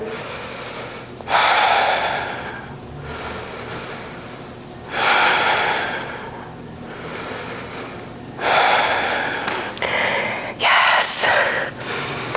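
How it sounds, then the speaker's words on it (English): Slow ujjayi breathing during a strength-focused yoga hold, each long oceanic breath audible and fairly close, rising and falling in roughly four spaced cycles over the stretch with no talk. "Ujjayi breath if you can."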